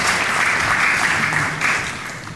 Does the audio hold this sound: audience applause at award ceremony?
yes